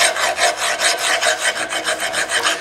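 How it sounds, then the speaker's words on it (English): Steady back-and-forth rasping of a hand file worked in an X pattern across a beveled steel test plate to even the root face, a close, loud, rhythmic scrape with roughly six strokes per second and no talk. "We're cutting back and forth across there. X pattern back and forth across."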